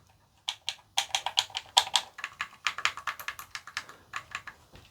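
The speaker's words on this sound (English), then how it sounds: "So the D-pad, it's nice and clicky." D-pad on a PowerA Moga XP-Ultra controller pressed repeatedly, a close, crisp series of quick plastic clicks in an uneven rhythm with brief pauses.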